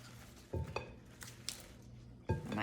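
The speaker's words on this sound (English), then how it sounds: "Stir that together like that." Soft scraping and clinking of a mix-in scraper stirring pasta salad in a bowl, a few quiet strokes with short bumps against the bowl and no talking.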